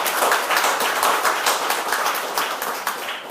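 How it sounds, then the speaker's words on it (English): An audience at a book talk applauds, a steady, dense patter of many hands clapping close by that eases slightly toward the end, with no voices. "I'm glad the applause came now,"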